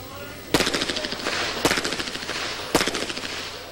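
Three sharp pistol shots ring out about a second apart at the 1990 NRA Bianchi Cup action pistol championship, each loud crack trailing off in a rattling echo.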